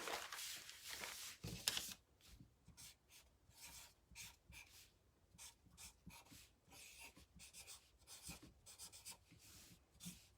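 A pencil scratches and rubs across paper while a sign is lettered in a sketch, quiet intermittent strokes in short bursts after a brief louder rustle at the start.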